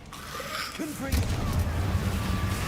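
The Confringo explosive spell cast in the video game Hogwarts Legacy: a voice speaks briefly, then a deep booming blast rumbles on for over a second, loud and close.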